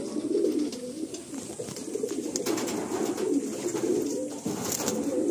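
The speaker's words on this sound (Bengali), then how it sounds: "বাহ, এটা বাচ্চা, ঘরের একটা বাচ্চা পায়রা।" Madrasi and Malwai pigeons held for sale coo close by in soft, repeated low throaty calls, with light rustling and background noise throughout.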